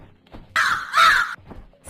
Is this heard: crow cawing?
yes